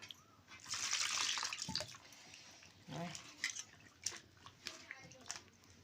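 Running water splashes steadily while Bombay duck fish are rinsed by hand, then gives way to scattered drips and light handling noises, with a voice speaking briefly.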